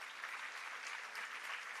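Applause from an audience at a Kalaarpanam 2025 dance event, a steady even wash of clapping held at a constant level throughout, sounding somewhat distant and soft.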